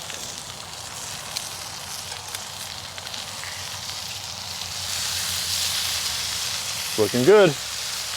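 Homemade Canadian bacon sizzles on a Kamado Joe grill with a steady frying hiss that grows a little stronger midway, while someone briefly speaks near the end.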